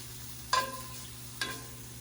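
Pink oyster mushrooms cook in a pan, with two brief scraping stirs over a steady low sizzle and hum, close and quiet, with no talking.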